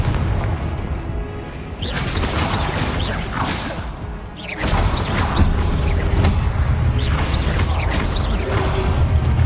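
Repeated Confringo blasting spells in Hogwarts Legacy combat, with whooshing casts followed by loud booms and crashing impacts, several in quick succession over constant rumbling game background.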